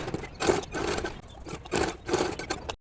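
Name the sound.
sewing machine stitching shoulder seams of children's clothes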